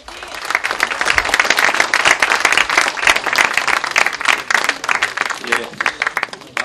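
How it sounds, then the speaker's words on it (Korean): Dense, sustained applause from a large audience at a Korean party lawmakers' general meeting, loud and continuous with rapid overlapping claps that thin slightly toward the end. "다시 한번 큰 박수를 부탁드리겠습니다"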